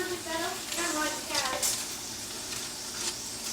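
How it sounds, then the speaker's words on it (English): Bacon fries in hot cooking oil in a pan: steady sizzling with stirring and scraping, a few brief clatters of utensils, heard close up under a person talking. "While the cooking oil is heating up and the bacon is cooking."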